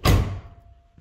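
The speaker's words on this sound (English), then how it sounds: "Door closes." A single heavy thud as a G-body car door swings shut, loud and close, followed by a fading low rumble and a faint hum.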